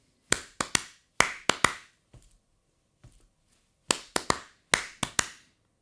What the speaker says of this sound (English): So the first fill I'm going to play for you are 2 3-stroke roughs together